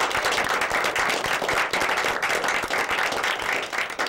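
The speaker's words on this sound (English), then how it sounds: "can we have a round of applause, please?" A studio audience at a Staten Island dinner show claps steadily and loudly for a guest hotel owner, dense continuous applause filling the whole stretch with no talking over it.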